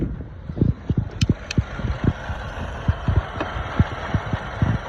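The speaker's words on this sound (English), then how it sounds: "The lights are dimming in the car and everything from the rough idle" A Chevy Cruze 1.4 turbo engine idles roughly, heard close up as an uneven, thumping low pulse with irregular beats and a faint high whine over it.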